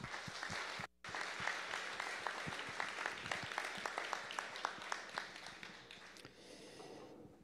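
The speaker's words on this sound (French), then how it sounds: "On les applaudit." A crowd applauds at a credit union's annual general meeting, dense sustained clapping with sharp individual claps standing out, briefly cut off near the start and then thinning toward the end.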